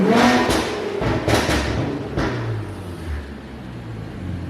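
Tuned Infiniti Q50 3.0T twin-turbo V6 with downpipes revving hard, loud sharp blips and pops up front, then a lower rumbling idle settling over the last seconds.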